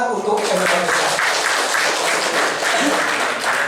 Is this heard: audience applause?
yes